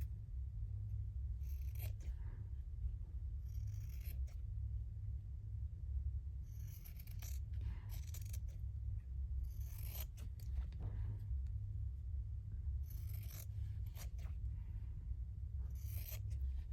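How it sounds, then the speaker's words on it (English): Scissors cutting out a paper piece, heard as a series of short, quiet snipping and rustling bursts at irregular intervals over a steady low background hum. "Let me just cut this one out too."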